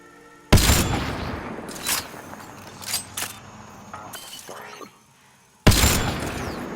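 Gunfire in the video game Mass Effect: Andromeda: two loud, sharp blasts with crackling shatter-like debris and a few softer impacts in between, heard close with some game voices.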